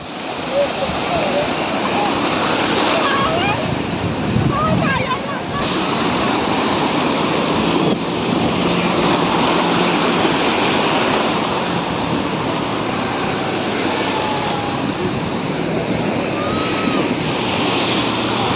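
Sea waves break and wash continuously onto a beach on a hot, sunny day, a steady loud roar of surf with voices of people playing in the water mixed in.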